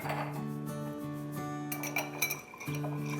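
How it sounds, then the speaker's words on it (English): Large ice cubes are dropped into a rocks glass, giving a short cluster of bright clinks midway through, set over a steady tonal background hum. "I'm gonna do some large ice cubes in my rocks glass here."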